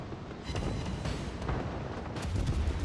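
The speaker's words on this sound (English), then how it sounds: "We have the obligatory exploding Nuremberg here." A Nuremberg cruiser explodes during a World of Warships-style naval battle replay, heard as a dense, continuous rumble of booming blasts and gunfire with several sharper bursts, loud and sustained throughout.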